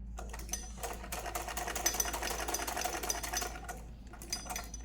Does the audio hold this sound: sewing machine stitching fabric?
yes